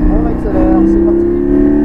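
A Porsche Cayman GT4 accelerates hard on a race track, its engine giving a loud, steady, rising drone heard from inside the car, with a voice talking over it.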